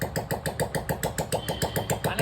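A farm vehicle's engine runs close by with a steady, rapid chugging pulse, about six or seven beats a second, and no voices over it.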